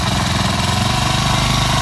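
A grass cutter engine runs steadily close by, a loud, even, rapidly pulsing mechanical drone with no pauses.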